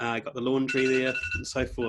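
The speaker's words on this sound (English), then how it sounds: "Excuse the phone." A household telephone rings faintly in the background while someone talks through a house tour near the laundry.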